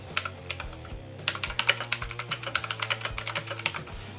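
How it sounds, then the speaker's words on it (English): Typing on a Redragon K552 mechanical keyboard with blue switches: a fast, uneven run of crisp, clicky keystrokes, close and clear, with a brief pause near the start. "it's the blue ones that give you that whole real clickety-clack sound and feel of the keys"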